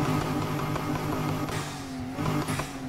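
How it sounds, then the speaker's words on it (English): A Nissan 370Z V6 revs steadily in the racing game Need for Speed Heat, a loud continuous engine drone with small rises and dips in pitch throughout and no voices over it. "I think that's a 370Z engine"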